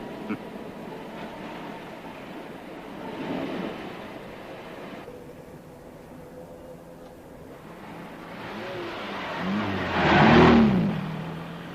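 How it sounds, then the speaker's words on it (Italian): A repaired car's engine runs steadily in the background, then swells into a louder passing rush and fades again, with no talk. "Sembra un'altra macchina. Non l'ho mai sentito andare così."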